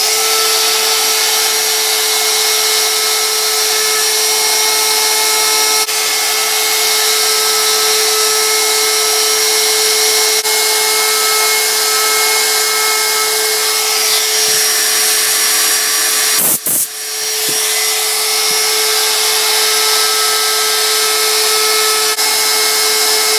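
A wood router carves a wooden Christmas sign, its motor a loud, steady, close-up whine with a sustained high pitch running throughout, briefly dipping and crackling near the end as the bit shifts through the wood.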